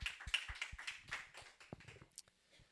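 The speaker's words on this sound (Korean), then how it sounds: "우리 하나님께 영광과 감사의 박수 올려드리겠습니다" A church congregation in a Korean worship service gives a brief round of applause, scattered uneven claps heard fairly near that fade out after about two seconds.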